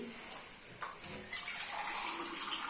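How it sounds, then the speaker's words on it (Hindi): Water is poured into roasting masala in a pan while making Pakistani egg curry, giving a steady rushing gush that swells and grows louder midway, with no voices. "तो देखिए आप पानी डाल देते हैं साथ ही साथ इस तरह से।"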